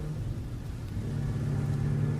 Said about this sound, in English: A motorcycle. Much too fast.